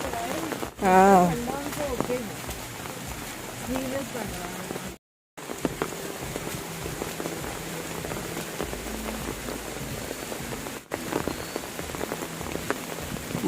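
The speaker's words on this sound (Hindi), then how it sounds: "इतना बारिश है।" Heavy rain pours steadily and loudly onto surfaces near a dirt road in Ella, Sri Lanka, a dense continuous hiss with a brief voice early on and a short dropout midway.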